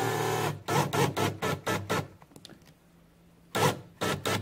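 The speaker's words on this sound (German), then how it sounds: "Dann können wir final die Schrauben andrehen." A cordless screwdriver drives screws into a picture hanging system for artwork, whirring close by in a rapid series of short buzzing bursts. A brief quiet pause follows, then two more bursts. No one speaks.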